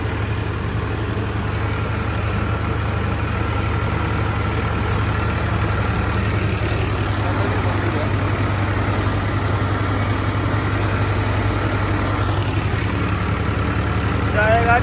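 Steady low chugging of a tractor engine idling close by, unchanging for the whole stretch.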